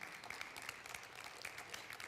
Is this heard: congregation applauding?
yes